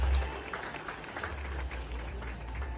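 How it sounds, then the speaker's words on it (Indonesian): Office staff at a company townhall applaud in a soft, distant wash of continuous clapping, with no voices over it. "Satu tepukan gemuruh untuk anda semua."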